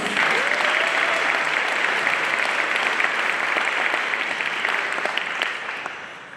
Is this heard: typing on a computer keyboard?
no